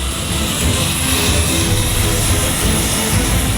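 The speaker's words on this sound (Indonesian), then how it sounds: "Bantuan diangkut dengan menggunakan pesawat Hercules TNI Angkatan Udara." An Indonesian Air Force Hercules transport aircraft landing at Frans Seda Airport in Maumere gives a loud, continuous engine roar that fills the whole stretch, with a voice faintly mixed in.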